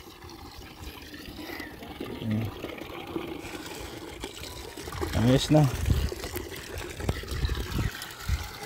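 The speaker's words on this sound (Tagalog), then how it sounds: "Malinaw ang tubig yan." Water from a new supply at a hut pours and trickles, rising to a fuller splashing flow partway through, while people talk nearby.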